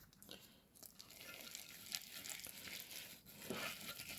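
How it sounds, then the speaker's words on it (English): Crushed walnuts being mixed into a thick milk chocolate brownie cookie dough, giving steady close crunching, crinkling and squishing textures with small gritty bursts throughout, no talking. "And we're going to mix that up together here"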